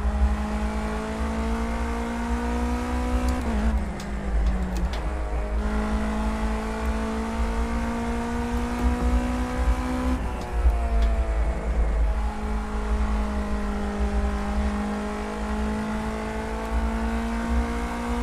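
Car engine in a driving video game revving steadily with harmonic whine, pitch dipping and climbing around gear shifts, loud and continuous with no talk.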